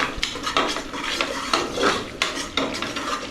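Ginger garlic paste stirred in a pan for pav bhaji, a spoon scraping and clinking against the metal in steady, close strokes with a faint sizzle beneath.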